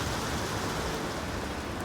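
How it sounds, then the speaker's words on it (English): Steady rain falls on an archaeological excavation at the site of Wedgwood's first factory in Burslem, a dense, even hiss that fills the whole moment with no voices. "But even the rain isn't going to stop us now."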